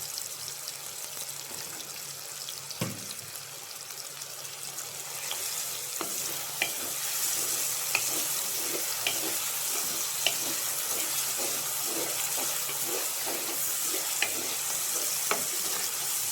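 Beef liver masala fries in a pan with a steady, soft sizzle, while a spatula stirs and scrapes the pan in regular light knocks and clicks, heard close with no talking.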